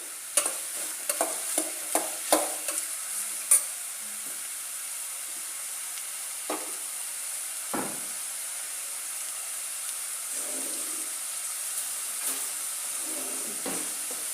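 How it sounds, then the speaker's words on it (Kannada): Ridge gourd fries in oil in a home kitchen, with a faint steady sizzle, scattered spoon clinks and stirring scrapes that are busier at first and then sparse, and no talking. "ಹೀರೆಕಾಯಿನೂ ಕೂಡ ಸ್ವಲ್ಪ ಎಣ್ಣೆಯಲ್ಲಿ ಫ್ರೈ ಆಗಬೇಕು ನೀಟಾಗಿ."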